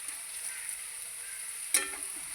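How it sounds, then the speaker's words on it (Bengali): Garlic fries in hot oil in a pan, a steady close hiss and sizzle throughout, with a brief louder crackle partway through as it is stirred. "ওই জন্য একটু রসুনটা ভালো করে ভেজে ভেজে নিতে হবে।"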